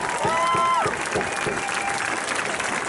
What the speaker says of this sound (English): y'all need to clap on that